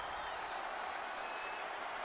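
A wrestling video game crowd at a championship match in Baltimore makes a steady, dense wash of applause and cheering with no breaks, loud and continuous throughout.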